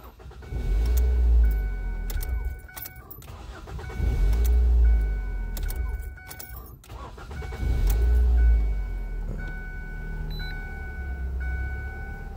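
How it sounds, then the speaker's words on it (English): A Ford Focus with a failing alternator is started three times in a row, each start a cranking surge that settles into a steady idle before the engine is shut off, close and fairly loud. "Start the engine 3 times."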